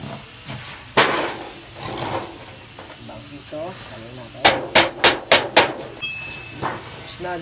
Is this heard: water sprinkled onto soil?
no